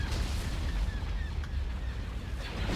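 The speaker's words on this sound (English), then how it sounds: "Hypervelocity cannon firing." Heavy, continuous booming hypervelocity cannon fire from the game Star Wars: Empire at War, Thrawn's Revenge mod, loud and dense, with a thin high whine cutting across the rumble.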